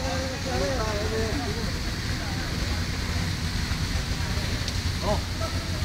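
A dense, steady hiss of heavy rain in Saudi Arabia pours throughout, with voices talking over it.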